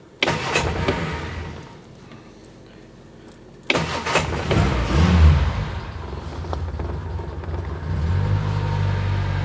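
A Reliant Fox engine with the choke on cranks and catches, then settles into a steady, loud idle after a brief quiet spell.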